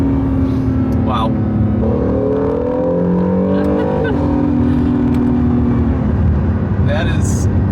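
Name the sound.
Honda NSX engine accelerating at full throttle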